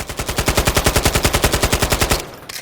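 An AK-107 rifle fires in Call of Duty: Modern Warfare III as one loud, rapid automatic burst of about twenty evenly spaced shots. The burst stops sharply near the end and is followed by a brief mechanical click.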